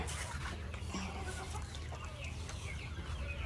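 Purebred white Kelso chickens cluck and murmur nearby over a steady low background rumble, with scattered short bird calls throughout.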